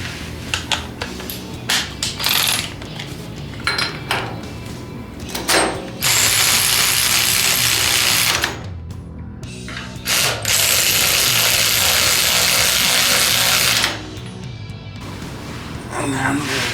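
Ratchet snugging rear brake parts on a Factory Five Mark 4 roadster, with bursts of rapid clicking and a few long, loud sustained runs of pawl clatter close by, broken by short pauses and occasional talk.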